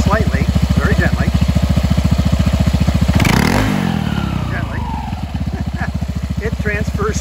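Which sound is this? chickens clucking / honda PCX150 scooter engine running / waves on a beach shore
honda PCX150 scooter engine running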